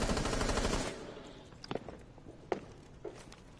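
Video game gunfire: a dense, loud burst of rapid automatic shots opening the clip, then quieter scattered single cracks and footstep-like taps further off.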